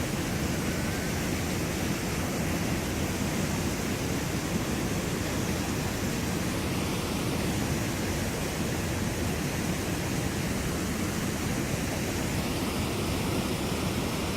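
River water plunges and churns at a salmon falls, a steady, dense roar of rushing water that holds evenly throughout with no other sounds standing out.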